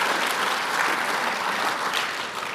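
Congregation at a Korean church ordination thanksgiving service claps together in steady, close applause, a dense burst of hand claps that fades slightly at the end.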